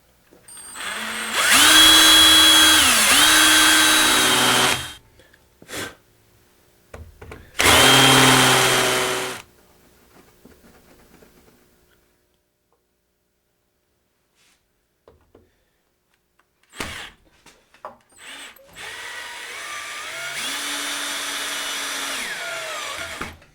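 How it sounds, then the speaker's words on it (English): A power drill bores through two stacked wood pieces in several loud bursts, its motor pitch dipping under load, with quiet pauses and a few knocks between runs and a long final drilling run. "we'll drill through both pieces and screw and glue these two pieces together."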